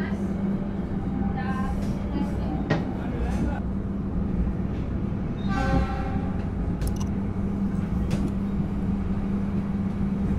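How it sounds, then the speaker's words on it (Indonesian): The Sancaka passenger train rumbles steadily as it departs Madiun station in Indonesia, with a low, continuous drone, brief tonal horn-like blasts rising over it, and faint voices in the background. "kereta api Sancaka diberangkatkan dari stasiun Madiun"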